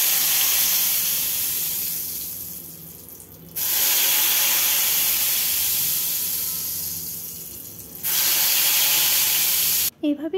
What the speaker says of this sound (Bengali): एरपर आमी एक एकटा पिस माछेर पिस कड़ाइर मধ্যে छेड़े देब।